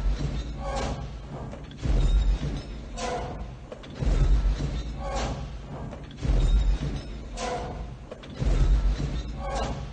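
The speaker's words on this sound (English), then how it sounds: "That, of course, is the sound of the AT-ATs. Not AT-ATs, the AT-ATs, the Imperial Walkers." Star Wars AT-AT Imperial Walker sound effect: heavy mechanical thuds and clanks repeating in a slow, steady stomping rhythm about every two seconds, each footfall loud and booming with metallic ringing above.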